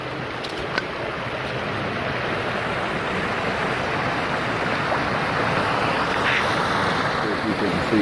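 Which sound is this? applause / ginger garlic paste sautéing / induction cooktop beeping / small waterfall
small waterfall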